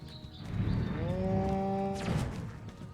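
A cow moos once in the video game Destroy All Humans!, a long, loud, clear bellow that rises and holds before falling away, heard over faint background game ambience.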